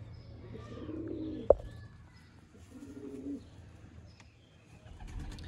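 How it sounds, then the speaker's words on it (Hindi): Soft cooing of Sialkoti pigeons in low repeated murmurs, with a sharp click partway through and faint bird chirps in the background. "ये है जी नशे वाले कबूतर"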